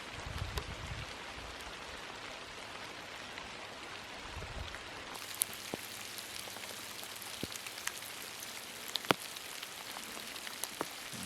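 Steady rain falls in the woods during deer season, a soft continuous hiss with scattered distinct drops tapping nearby surfaces, alone without talk.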